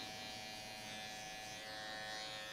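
An electric hair clipper fitted with a medium comb guard runs in a steady, faint, continuous buzz with a constant pitch, no cutting bursts and no voices.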